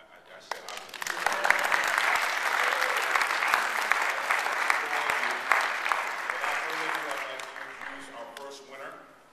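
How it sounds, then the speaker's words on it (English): A round of applause from the audience at a film awards ceremony, dense steady clapping that swells, holds for several seconds and then tapers off. "I'd like to take a moment to give all of you a round of applause"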